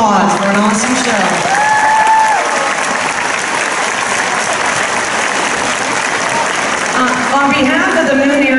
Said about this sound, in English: Let's give our gymnasts, our coaches, alumni another round of applause for an awesome show.